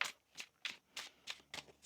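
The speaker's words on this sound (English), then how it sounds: "One more shuffle here." Tarot cards being shuffled by hand, six quick crisp riffling bursts in a steady rhythm, close and fairly quiet, with no talking.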